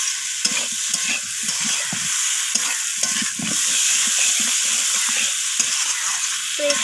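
Vetki fish bones and fried kohlrabi sautéed together in a pan, with a loud, close sizzle and repeated scraping stirring strokes in an uneven rhythm, no voices.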